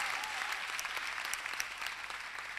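A church congregation applauds the Lord, sustained clapping from many hands filling the room steadily and close, with a faint murmur of the crowd beneath.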